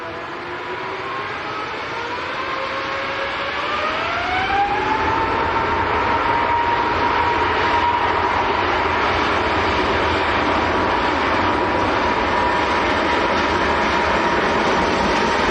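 Airbus A350-1000 bound for Doha at Manchester Airport, a loud sustained engine roar with a rising whine that climbs and then levels off as the jet spools up, building in volume and holding steady, alone without talk.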